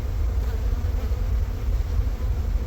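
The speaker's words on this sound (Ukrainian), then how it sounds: "бачу повний корпус бджолів." Honeybees buzz inside a full hive box, a dense, continuous low drone heard up close, steady throughout.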